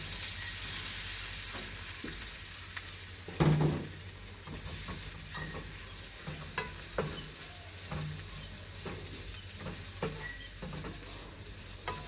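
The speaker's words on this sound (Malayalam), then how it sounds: "വെളുത്തുള്ളിയും തേങ്ങയും കൂടി ഇതിനകത്തിട്ടൊന്ന് വഴറ്റുവാണ്." Crushed garlic and coconut sauté in a pan, a soft steady sizzle punctuated by repeated spatula scrapes and taps, one louder knock near the start, no speech.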